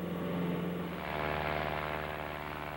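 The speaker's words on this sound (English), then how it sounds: "the aeroplane lifts off and rotates into the climb" A propeller aeroplane lifts off and rotates into its climb, with a steady engine drone and propeller hum at the centre of a continuous roar. The pitch shifts slightly as it climbs, and there is no speech.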